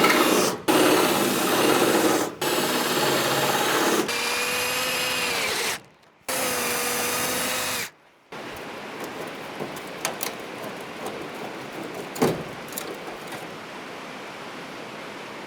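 A power drill bores out spot welds on a 1974 Ford F100 pickup, whining in several bursts separated by short pauses, then giving way to rougher scraping and grinding metal noise up close.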